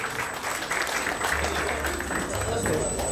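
An audience at a mining-sector awards ceremony in Guinea applauds steadily, with a dense wash of clapping and some crowd noise underneath.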